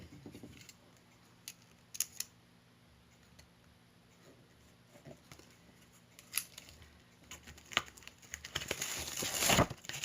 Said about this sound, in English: And then I'm just going to use my scissors again and cut it down.